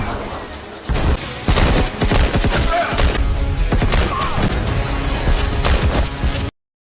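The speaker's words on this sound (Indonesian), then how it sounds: "dan terjadilah tembak-tembakan" Rapid bursts of gunfire crackle and pop in dense, overlapping volleys, loud and close, like a chaotic shootout with scattered heavier booms.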